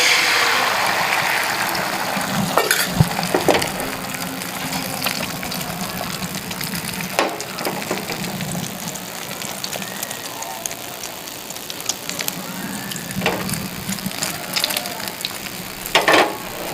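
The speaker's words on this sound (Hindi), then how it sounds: "ये हमारा घी गर्म हो चुका है। अब हम इसमें अंडे डालेंगे।" Eggs sizzling and frying in hot ghee in a home kitchen, a steady crackling hiss with occasional sharp pops and clinks of a utensil throughout.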